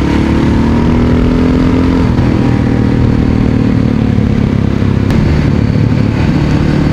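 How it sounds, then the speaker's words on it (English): A motorcycle cruises at about fifty-five miles an hour in high gear, a loud steady engine drone mixed with wind rush, close and continuous with no talk. "this bike feels great."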